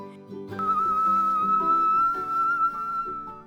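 An electric kettle heating water for tea whistles with a sustained high, steady tone, entering abruptly and holding over a layered background of lower sustained notes.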